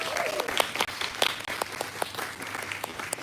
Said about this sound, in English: can we get a round of applause for Ree Herman?